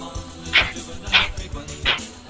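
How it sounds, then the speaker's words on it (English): Three short, high dog yips in a steady rhythm, close by, over a faint low background. "Is there a doggy?"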